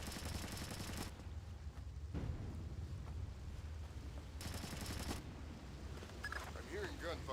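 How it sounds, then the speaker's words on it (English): Gunfire in the video game Splinter Cell: Chaos Theory: two dense bursts of rapid automatic fire, the first about a second long and the second briefer, separated by a low, steady game rumble. "I'm hearing gunfire down there, Fisher."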